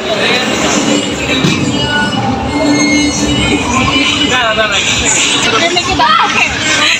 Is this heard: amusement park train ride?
yes